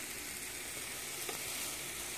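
Meat sizzling and frying in a big pan on a stovetop, a steady close crackling hiss throughout with no talk.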